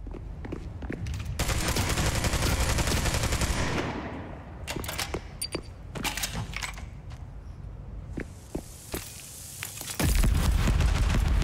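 Rapid bursts of automatic gunfire and scattered single shots from the shooter game Spectre Divide, loud and dense at first, then breaking into sharp separate cracks before another heavy volley closes.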